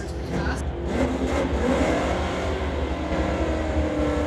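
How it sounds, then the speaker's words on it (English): An old Camaro and a new Camaro drag racing side by side at a street-legal drag event, a loud continuous roar of engines at full throttle close by, with no clear talking. "Old Camaro just hauling butt, but that new one's chasing him down"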